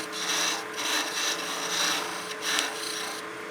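Lathe tool cutting into spinning wood while turning the waist section of a German Christmas smoker, a steady continuous scraping rasp with slight swells in intensity throughout, no voices.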